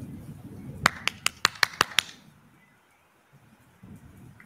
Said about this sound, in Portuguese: Bate palmas atrás dela.